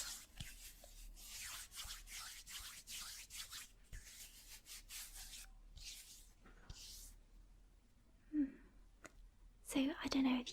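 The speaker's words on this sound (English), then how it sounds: "I'm just going to have to rub it all into my hands, which might make good sounds" Makeup product being rubbed into the hands close up, giving soft, repeated swishing friction strokes with a few brief louder touches near the end and whispered speech at points.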